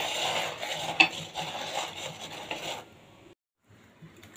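Hands knead salt, chilli powder, turmeric and sugar into an eggplant, giving soft, close rubbing and rasping squelches that fade to near silence, then resume faintly.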